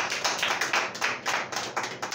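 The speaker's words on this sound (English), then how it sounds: "Give yourself a round of applause." A church congregation applauding after a morning worship service, steady dense clapping with slight swells that fills the whole stretch at moderate level, with no talking over it.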